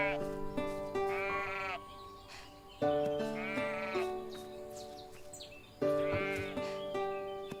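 Sheep in the farming game Everdream Valley bleat in three separate wavering calls, each one loud and near with bright harmonics, set over faint background music.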